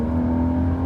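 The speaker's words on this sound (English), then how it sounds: "I think this might be the best sounding 6-cylinder motor out there" Porsche 981 Boxster flat-six engine holding a strong, steady rev, a loud, close, tonal drone lasting under a second with no talk.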